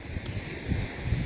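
Steady wind rumbling across an outdoor microphone on a beach, low buffeting gusts with a faint wash of surf in the background.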